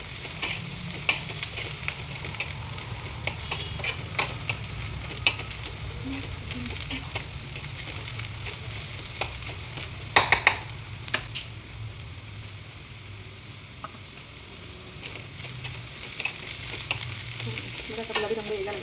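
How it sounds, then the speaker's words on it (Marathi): Onion and grated coconut sautéing in a pan over a gas flame for mutton rassa, a constant close sizzle with stirring scrapes and a few sharp clinks, no talking. "ह्या गॅसवर आपण कांदा आणि खोबरं परतून घेऊया"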